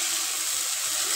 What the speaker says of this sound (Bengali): দুধটা দিয়ে দিচ্ছি